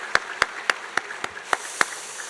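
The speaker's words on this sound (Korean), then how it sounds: "큰 박수로 한번 격려할까요?" Sparse hand claps during a Friday late-night prayer service at a church, cheering those receiving infant baptism and confirmation; about seven sharp, evenly spaced claps, close and distinct against a quiet room.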